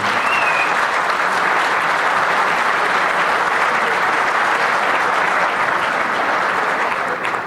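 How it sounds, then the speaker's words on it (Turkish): Steady applause from a large audience at an international expo gathering in Türkiye, sustained and dense clapping with no break, loud throughout. "Başta Murat Şaroğlu olmak üzere Nobel Expo'nun tüm emekçileri için alkışlayacağız."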